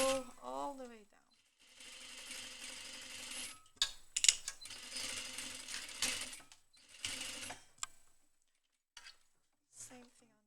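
A sewing machine stitches a double welt pocket in short runs separated by pauses, with a few handling clicks and a brief voice at the start.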